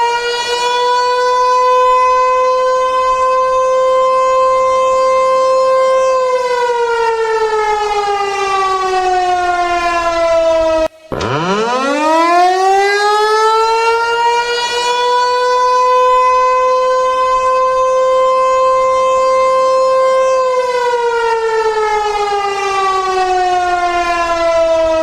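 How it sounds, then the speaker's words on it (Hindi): A civil defense air raid siren in Pakistan wails loud and alone, holding a steady tone, sliding down, then cutting out briefly before rising again into a long sustained howl that eases lower once more. "दूसरी तरफ पाकिस्तान में सायरन बज रहे थे"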